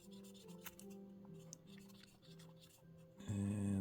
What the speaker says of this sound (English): I'm just going to clean all these off, and this is going to remove all that grease that's on there.